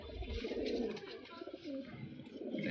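Giribaj pigeons of an old lineage give continuous low cooing, a dense, close, steady murmur of several birds with no talk.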